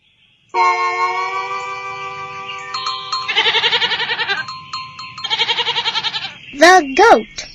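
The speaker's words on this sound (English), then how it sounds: "The goat." Goat bleating in a farm-animal sound sequence, heard as several harmonic bleats: one long cry, then two pulsing bleats and two short rising calls near the end, close and clear with nothing else around.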